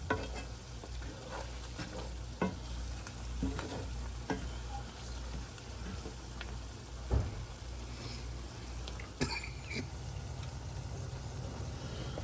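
Spices, peppers and onions being stirred in a frying pan, a soft steady sizzle under repeated light scrapes and taps of the utensil across the pan.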